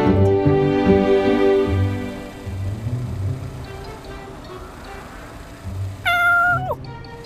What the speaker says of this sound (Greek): Γεια σου, γατάκι!